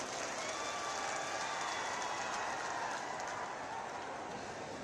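A huge outdoor crowd at a large farmers' rally claps in a thunderous, continuous roar to welcome the chief minister, steady and dense like heavy rain from start to end.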